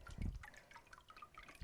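Water drips and trickles off a papermaking mold just after a sheet is pulled from the vat, a soft patter of drops and a brief splash, faint and close with no talk.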